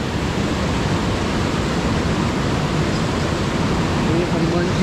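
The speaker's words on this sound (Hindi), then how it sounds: "और ये वाटरफॉल है छोटा सा" A small waterfall near the Seetha Amman Temple at Sita Eliya rushes in a steady, dense roar that stays even and close for the whole stretch.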